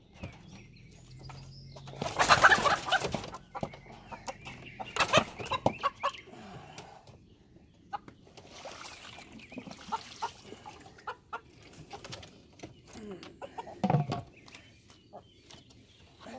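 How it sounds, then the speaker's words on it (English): Backyard chickens clucking and squawking in an agitated burst as they are given feed, with loud wing-flapping flurries around two, five and fourteen seconds and quieter fussing in between; no talking. "I don't know why my chickens freak out like that."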